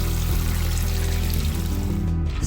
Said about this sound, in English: Pour dried butter beans into a large bowl and cover with water.